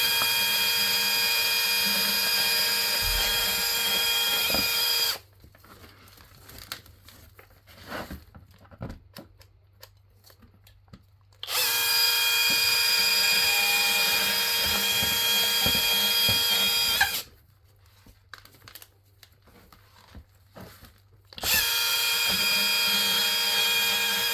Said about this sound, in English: The power of the chainsaw. Nano chainsaw.